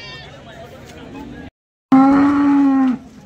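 Cows at a busy cattle market in Sangola, one loud sustained moo rising clearly after a brief pause, with crowd chatter and talk underneath beforehand.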